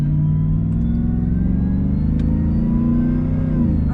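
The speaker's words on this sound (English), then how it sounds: "So we're just driving normally and you can hear that supercharger" A 2020 Shelby F-150 pickup truck engine rumbles low while driving, with a faint rising supercharger whine layered over the drone, steady and close throughout.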